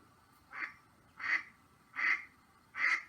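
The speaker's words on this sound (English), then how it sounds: "mallards in the creek discuss the weather. The gull was right, they say, quacking 5 times in agreement." Mallard ducks quack four times at an even, unhurried rhythm out on a creek, each call loud and close against a quiet background with no voices.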